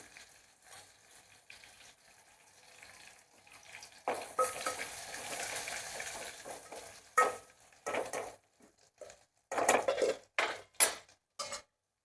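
Curry leaves and asafoetida hit hot oil with browned garlic, giving a loud, sharp sizzling burst. Quieter crackle and several clinks and scrapes of a spoon against the pan follow.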